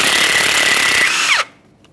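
A power tool removes a 15mm mounting nut on a 2015-2020 Ford F-150 during upper control arm replacement, giving a loud, close, continuous rattling whir that cuts off abruptly after about a second and a half.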